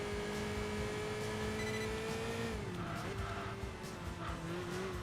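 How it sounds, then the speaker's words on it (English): Race car with an upgraded exhaust system in Enthusia Professional Racing, a sustained engine drone holding steady pitch, then shifting down and wavering as the car works through corners. "You can hear that with that beautiful exhaust system."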